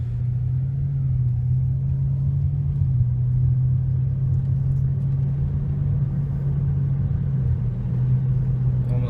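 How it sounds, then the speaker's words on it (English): Lexus GS400 car gaining speed before a brake test, heard as a steady, loud low engine drone and road rumble that holds constant throughout, with no voices. "So we'll go ahead and get it up to a little bit of speed here."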